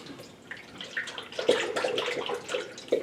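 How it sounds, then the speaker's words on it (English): Distilled water poured into the cooling system of a 1963 Chevy C10 with a 454 engine, a soft, uneven gurgling trickle with small splashes, close and quiet, with no talking. "I'm going to put distilled water in as well."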